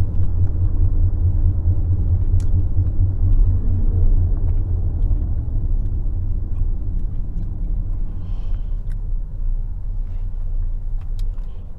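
Inside a car driving home in traffic, a continuous low engine and road rumble drones steadily, with faint clicks and rattles scattered through it.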